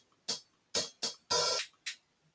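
Several short hi-hat drum samples programmed in FL Studio, bright crisp hits in an uneven pattern, one held a little longer, heard alone without talk.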